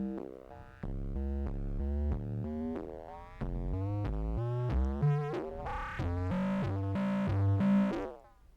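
A Roland MC-808 synth sound controlled by the D-beam plays a run of short stepped notes in a steady pulsing rhythm, pitch climbing gradually and the tone brightening toward the end before fading.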